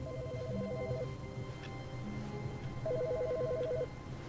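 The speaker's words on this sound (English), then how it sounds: "I'm hearing a phone ringing." Telephone ringing in the video game The Stanley Parable: two warbling electronic ring bursts about two seconds apart over a low steady background hum, with no talking.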